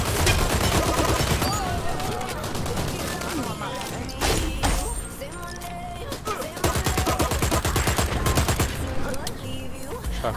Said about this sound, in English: Shotguns, yeah.